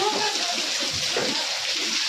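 Heavy monsoon rain pours onto and around a house in Porbandar, water dripping and splashing indoors, a dense steady hiss close by with a faint voice underneath.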